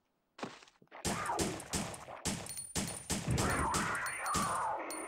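Enemies fire guns in the PlayStation game Resident Evil Survivor, a steady rhythm of loud, evenly spaced shots ringing out one after another after a brief sharp sound at the start.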